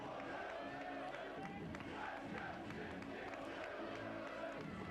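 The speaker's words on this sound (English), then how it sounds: "a healthy crowd on hand here at Marconi Stadium" Stadium crowd at Marconi Stadium during an Australia Cup football match between Western Sydney Wanderers and Adelaide United, a steady dense roar of chatter and shouts filling the air without a break.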